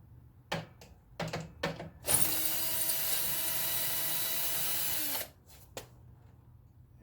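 A power drill spins off the lugs of a free drum set, a steady whirring burst of about three seconds, loud and close, framed by a few sharp knocks and clicks before and after.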